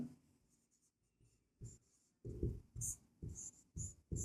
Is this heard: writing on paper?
yes